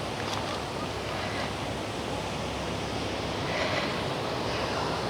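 Water rushes continuously at an old mill, a steady broadband roar with some wind buffeting, fairly close and unbroken throughout.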